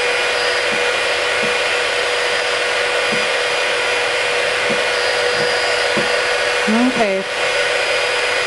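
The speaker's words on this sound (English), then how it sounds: "people wonder why I go through a heat gun every 3 weeks" A heat gun blows steadily over glitter heat-transfer vinyl, a loud constant whooshing hum with a faint recurring tick. A brief spoken word cuts in near the end.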